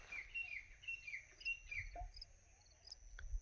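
Partridges calling at dusk around village farmland, a series of thin, high chirping calls repeating in short bursts, fairly faint over a low rumbling background.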